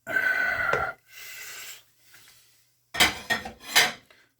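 Chopped onions are mixed and folded into a bowl, with a utensil scraping and clinking against the bowl in a couple of short bursts separated by quiet pauses, close and moderately loud.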